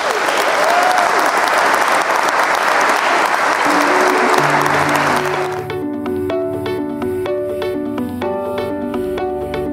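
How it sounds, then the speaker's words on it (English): Wedding guests applaud the newlyweds just after the ceremony, a dense, loud clapping crowd that fades after about five seconds as music with sustained tones and plucked notes takes over. "Let's give them a round of applause."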